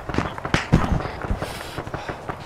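Rapid gunfire in a military video game battle, enemies on the north side shooting toward the players: irregular sharp cracks and pops scattered across a noisy stretch, loud and close, with some rustle between shots.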